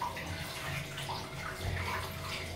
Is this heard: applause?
no